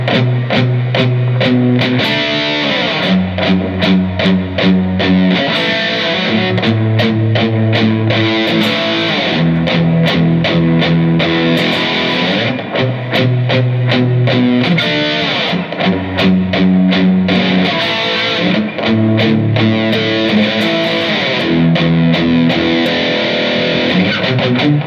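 Distorted electric guitar playing a riff, a slow, loud, dense chugging pattern with shifting chord shapes repeating steadily, no voices.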